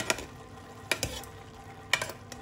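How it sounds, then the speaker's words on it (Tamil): Half-cooked prawn biryani rice being mixed in a pot, with a few sharp scraping clinks of the utensil against the metal spaced across a quiet, faintly sizzling background. "இப்போ ஒரு தடவை நல்லா மிக்ஸ் பண்ணிவிட்டு ரொம்ப அழுத்தி மிக்ஸ் பண்ண வேணாம்"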